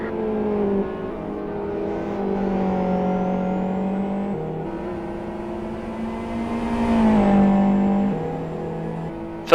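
GT World Series race cars run at full throttle, a sustained droning engine whine that shifts pitch with gear changes and swells as the pack draws closer, with no talk.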